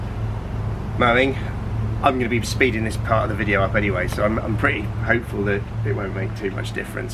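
A neighbour's lawn mower drones steadily in the background throughout, a constant low engine hum sitting under someone speaking close to the microphone.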